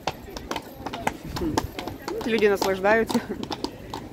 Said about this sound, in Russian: А давайте сейчас вам покажем лошадку.